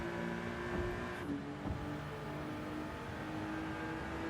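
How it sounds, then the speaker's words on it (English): Race car engines roar past on track in Gran Turismo 7, a steady distant engine drone with passing cars and faint tire squeal, with no talking. "I can hear the cars going past in my right earphone."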